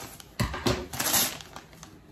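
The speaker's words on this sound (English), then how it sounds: "gonna have to use the scissors on this one" Scissors snipping and cutting through the plastic packaging of a Lionsgate Blu-ray with a slipcover, a few sharp crunching cuts followed by crinkling plastic, close and fairly loud, no talking.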